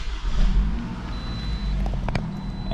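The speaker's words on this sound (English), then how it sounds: "go ahead and start your vehicle" A 2018 Toyota RAV4 with the 2.5 four-cylinder engine starts, a brief crank catching into a low, steady idle rumble with a few light clicks, close and moderately loud, no talk.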